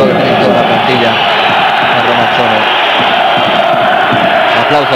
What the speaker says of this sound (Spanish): Aplausos para Baggio, que todavía recuerdan